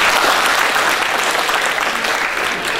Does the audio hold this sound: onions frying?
no